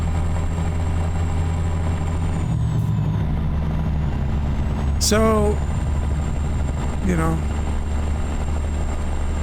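A ZeeMod 3406b truck engine in American Truck Simulator idles with a steady, low droning rumble throughout, joined by two brief hissing, chirping bursts. Someone talks over it.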